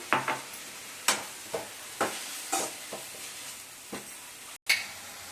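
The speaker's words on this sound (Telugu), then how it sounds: "ఇవన్నీ ఆయిల్లో మంచిగా మగ్గిపోవాలి" Onions cooking in oil in a pan with a little salt, heard as a steady soft sizzle broken by a series of sharp stirring scrapes and taps of a utensil, close and moderately loud, with no talking.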